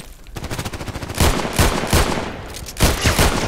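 Colt Python Elite revolver firing in the video game Contract Wars: several loud, sharp shots spaced about half a second apart, following a quicker run of rapid gunfire, with no voices.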